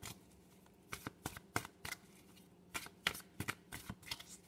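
Story cards being shuffled by hand, a quiet series of quick riffling flutters in irregular bursts, close and without talk.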